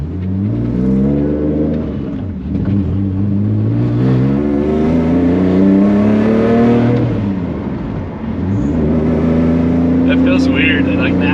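Cheap $400 drift car with a tuned ECU and M50 intake manifold, its engine loud and close as it accelerates through rising revs, dropping and climbing again between gear changes.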